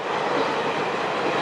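Luxury passenger train rolling steadily along the rails, a constant broadband rumble and rush of carriage noise with faint wheel clatter, close and continuous throughout.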